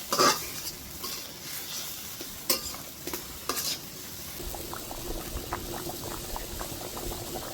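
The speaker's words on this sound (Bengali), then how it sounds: "মাছটা টক করে ফুটতে আছে" Tilapia fish and potatoes boil in water in a pot on a stove, a steady bubbling simmer with a few sharp clinks of a utensil against the pot early on.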